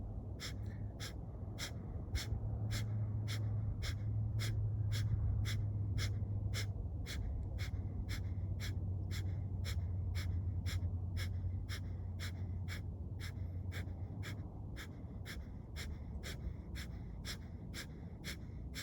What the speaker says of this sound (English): Maybe you want to add on breath of fire.